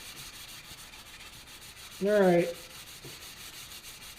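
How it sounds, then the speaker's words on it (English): Paint is hand-sanded on a 1966 Ford Galaxie 500 convertible, a steady, close, scratchy rubbing with a soft rhythmic pulse. Someone briefly speaks midway through. "I'll stop blabbing and do all my sanding here"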